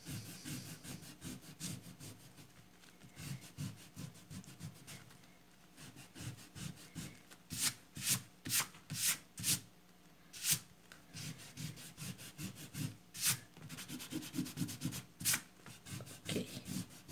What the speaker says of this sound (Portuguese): Eu vou apagar aqui para a gente continuar a aula.